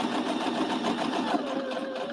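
A sewing machine stitches a quilt block in a steady, continuous whir with rapid needle rhythm, close and fairly loud, with no talking over it.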